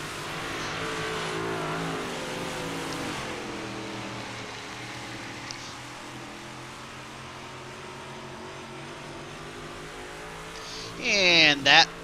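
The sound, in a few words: race cars driving during practice in the video game iRacing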